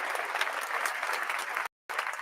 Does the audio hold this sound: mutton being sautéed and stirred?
no